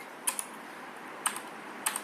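Typing on a Rapoo V510 mechanical keyboard, three sparse, crisp key clicks heard up close against a quiet background.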